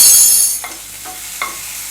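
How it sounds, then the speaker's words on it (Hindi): Hot oil sizzling in a pan with chilli, ginger-garlic paste and turmeric powder, a few scraping stirs of a spoon, steady frying hiss close up and no talking. "हल्दी पाउडर डाल के इसे हिला देंगे।"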